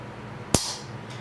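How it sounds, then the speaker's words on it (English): A Rock Island TAC Ultra 45 ACP pistol's trigger is pulled in a dry test, giving a single sharp, close metallic snap in a quiet room, followed by a faint softer click. "I'm gonna pull it back and test this trigger a little bit"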